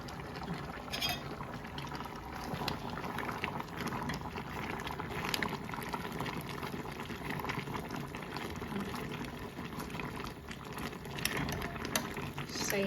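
Water in a cooking pot on a stove at a steady rolling boil, with a continuous bubbling hiss close by from start to finish. No one talks over it.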